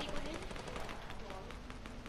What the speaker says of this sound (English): Yo, someone's minigunning.